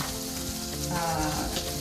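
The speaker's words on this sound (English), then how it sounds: "now the duck fat is sizzling" Duck fat sizzles and crackles steadily in a hot pan, a dense, continuous frying hiss close by.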